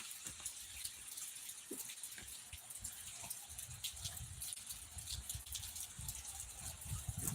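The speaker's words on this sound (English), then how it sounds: "Now it's raining." Steady rain, noted while the set isn't ready for a live stream, gushes and patters continuously in a dense, even wash, with scattered drops and splashes standing out nearby.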